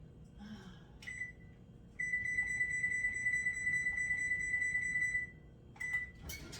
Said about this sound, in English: Turn your oven on to 425.